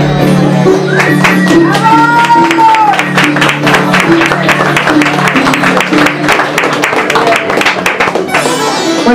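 A crowd at a live music festival applauds a performer with dense, sustained clapping that fills the whole stretch, loud and close, while a voice briefly sings or calls out over it and the clapping thins near the end.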